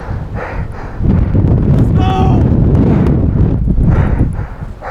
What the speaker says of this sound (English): the wind is absolutely ripping up here